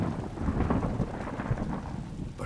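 Rain falls steadily with rolling thunder booming through it, a loud continuous wash and rumble that swells and fades over a couple of seconds, with no voices.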